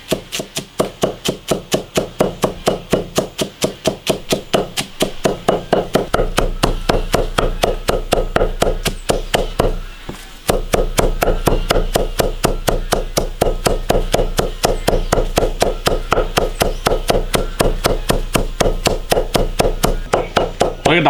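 Garlic chopped and minced with a cleaver on a board, a long fast run of loud, steady knocks with a brief pause midway, close and alone with no talk.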